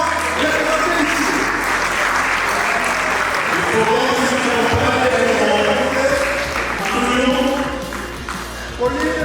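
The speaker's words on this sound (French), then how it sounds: "Je vous prie d'applaudir les phares, forum d'association d'événements" A large event audience at an awards ceremony applauds an association, dense loud clapping sustained throughout with a low hum beneath, easing slightly near the end.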